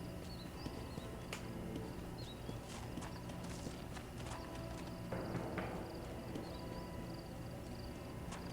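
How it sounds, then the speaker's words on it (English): Horse hooves clip-clop at a steady riding pace while a rider travels on horseback in the video game Red Dead Redemption, with light ambient game sound and no talking. "We'll just ride down there and see what happens."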